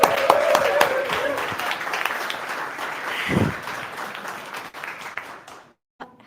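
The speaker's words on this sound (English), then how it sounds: "let's give her another round of applause" A crowd at a startup demo day gives a presenter a thick round of applause with a few whoops and a brief shout. The clapping fades and stops abruptly into silence near the end.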